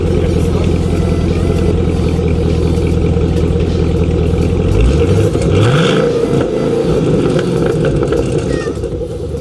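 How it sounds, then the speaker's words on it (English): Chevrolet Camaro ZL1 engine and exhaust rumbles loudly up close, idling with a deep drone before a couple of quick revs swell and settle back. "we're gonna check out the exhaust, see how it sounds."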